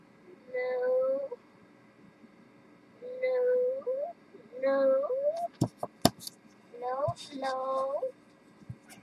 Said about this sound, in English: Samantha, please leave the cat alone.